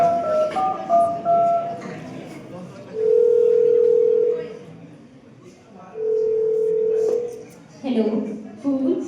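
A telephone rings with two long, steady electronic tones separated by a pause, loud and clear, during a skit staged for a Women's Day event at a nursing college; voices speak briefly before and after the rings.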